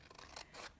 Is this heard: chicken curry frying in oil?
no